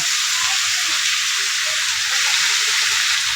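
Washed and drained taki fish fry in oil, producing a loud, continuous sizzling hiss that holds evenly with faint crackles and no interruption.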